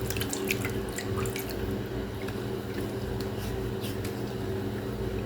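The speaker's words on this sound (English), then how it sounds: "Let's get a little water on the face and see how the face did." Water splashing and dripping onto a face at a bathroom sink while shaving, a tap running as a steady wash with several brief wet spatters, close and moderately loud.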